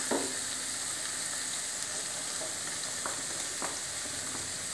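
Egg fried rice with soy and tomato sauce is stirred in a hot pan, giving a steady loud sizzle with occasional scraping taps of the utensil, close and continuous without any talk.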